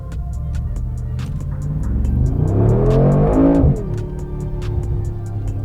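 A 2020 Mercedes G63 AMG pulling away from a launch, its loud engine note rising steadily through first gear before a sharp drop at the shift into second, close inside the cabin with no talk.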